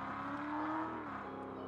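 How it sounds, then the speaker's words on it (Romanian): A V8 engine revs steadily in the Car Parking driving game, a continuous loud, droning motor tone holding near and even for the whole stretch with no break. "Eu zic că sună frumos tare mașina"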